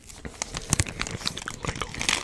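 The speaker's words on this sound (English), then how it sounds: "Crinkle." Close, crisp crinkling of material in an ASMR setting, a dense run of irregular crackles and snaps with sharp bright peaks, steady and loud, with no talking.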